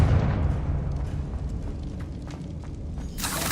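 A Confringo spell bursts in Hogwarts Legacy, a loud rumbling blast that decays over a few seconds before a bright crackling burst at the end.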